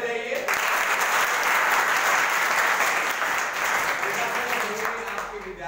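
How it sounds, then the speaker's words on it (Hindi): An audience at a school event claps steadily and loudly for several seconds, a dense unbroken wash of hands with a faint murmur of voices underneath. "तो तालियां बजाइए।"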